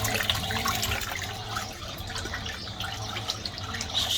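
Water from a Fisher and Paykel MW511 washing machine drains steadily, a continuous rushing, gurgling flow with light splashy detail, close and fairly even in level, with no talking.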